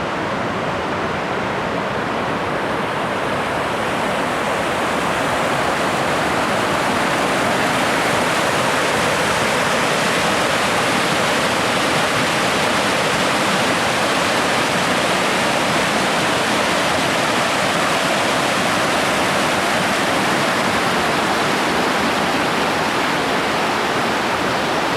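A major waterfall beside a winter backpacking trail in freezing temperatures of about -3°C roars steadily and loudly throughout, a dense unbroken rush of falling water with no voices.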